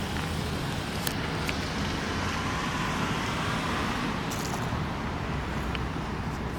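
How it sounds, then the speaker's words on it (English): Car driving over a one-lane bidirectional bridge, a continuous broadband road rumble holding steady and fairly close throughout, with faint higher clicks and no speech. "Now we're going to send another car over."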